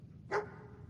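A single short bark from Dogmeat, the dog companion in the video game Fallout 4, a brief sharp yap rising out of a quiet background hum.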